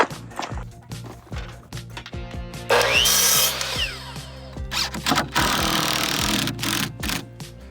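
Power drill driving screws into a curved custom form for a hyperadobe bond beam, with repeated whirring bursts that speed up and cut off, loud and close in an outdoor work setting.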